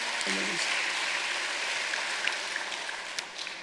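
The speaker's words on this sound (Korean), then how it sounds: "우리 존경과 감사의 박수 한번 드립시다" Church congregation clapping in thanks for mothers during a Mother's Day carnation sermon, a steady wash of many hands sustained throughout at moderate level, with no voices over it.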